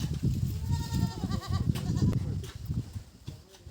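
Goats bleating at a farm while grass is cut for them, several wavering calls in quick succession mid-clip over a busy low rumble of activity, with people talking nearby.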